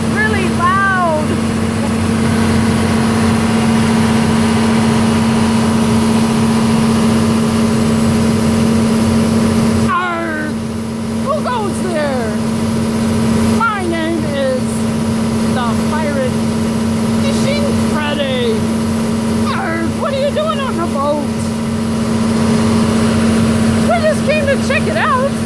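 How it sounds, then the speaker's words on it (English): A steady, loud boat engine drone from inside the engine room runs throughout with a constant low hum, while voices talk over it intermittently. "It's the engine room. This is where it all happens. Makes the boat go loud, really loud."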